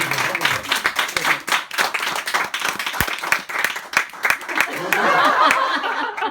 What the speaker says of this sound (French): Applaudissements pour les enfants.